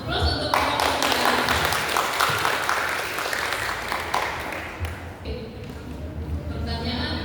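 Audience applause for contestants at an Indonesian quiz competition, a dense sustained wash of many hands clapping that fills the whole stretch, steady and fairly loud with a slight dip near the end.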